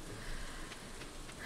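Rain falls in the video game Stardew Valley as a faint, even hiss of patter over a brief moment, with no voices.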